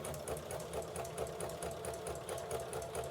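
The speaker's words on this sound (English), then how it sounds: "I'm just going to stitch along." Sewing machine stitching appliqué, a quiet, rapid, steady mechanical chatter of the needle running evenly throughout with no talk.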